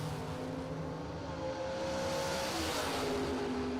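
Chevy Nova and a Camaro from New Mexico drag racing at a strip, loud sustained engine roar with rising revs and tire noise, race cars accelerating hard throughout, no talk.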